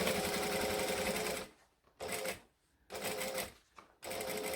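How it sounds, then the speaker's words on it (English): A sewing machine stitching close along the piping of a cabin bag, running in bursts: a long run, two short runs separated by pauses, then another run starting at the end, near and clear. "you want to like be almost stitching on the piping for this final round"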